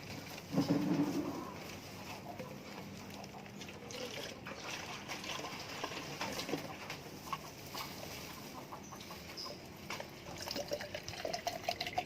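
Chlorinated water poured into a container for infection-prevention practice, a continuous soft trickle and splash running steadily throughout, fairly quiet.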